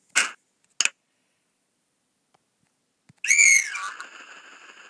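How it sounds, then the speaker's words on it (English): A couple of soft clicks, a pause, then a bright, piercing whistle for calling horses in the game Survivalcraft that swoops and settles into a lingering ringing tone. "Here's a whistle. Whistles for horses."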